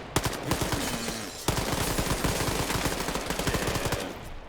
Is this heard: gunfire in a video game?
yes